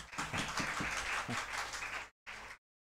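Audience applause at a best teacher award ceremony: a crowd claps steadily for about two seconds, then a short final burst cuts off abruptly.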